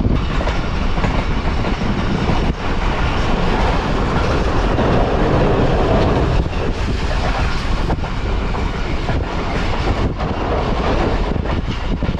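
The Shalimar Express passenger train runs at speed, heard from inside a coach: a loud, continuous rumble with rhythmic clickety-clack of wheels over rail joints and wind noise throughout.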